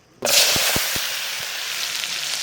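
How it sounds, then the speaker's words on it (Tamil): Small onions tipped into hot, pure sesame oil for a village rabbit curry burst into a sudden loud sizzle, which settles into a steady close frying hiss with a few sharp crackles. "இப்போ வெங்காயத்தை கொட்டிப்பாங்க சின்ன வெங்காயங்க"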